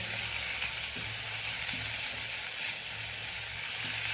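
Fish curry masala sizzles and fries steadily in a pan for Kottayam-style fish curry, a continuous close, loud crackle with occasional soft scrapes of stirring and no talking.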